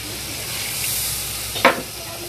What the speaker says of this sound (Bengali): এখন একটু জল দিয়ে দিব।